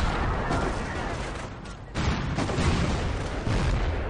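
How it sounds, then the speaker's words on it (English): A rocket barrage and artillery fire in the video game Company of Heroes 2 make a dense, continuous roar of overlapping blasts and rumbling impacts, loud throughout, with a brief dip before the barrage swells again. "Whoa, huge rocket barrage in the center."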